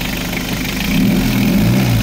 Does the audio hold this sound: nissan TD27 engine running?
yes